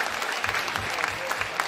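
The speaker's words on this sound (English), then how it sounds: "can we give a big round of applause to Sir?" A school audience gives a brisk round of applause at a Science Day programme, many hands clapping densely and steadily, fairly loud throughout.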